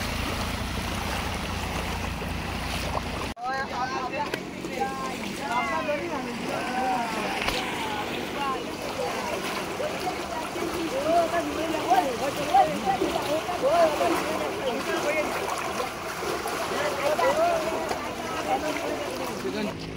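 Floodwater rushes steadily over a submerged road in Borkhola, Silchar, a continuous loud wash of flowing water with someone speaking over it throughout.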